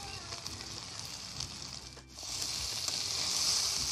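Mixed vegetables for Bengali shukto sizzle and fry in a pan while being stirred, a steady crackling hiss that briefly drops out, then returns louder and brighter, close up with no talk.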